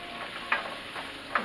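Mushrooms sizzle softly in a frying pan with a steady low hiss, broken by two brief stirring scrapes; no talking.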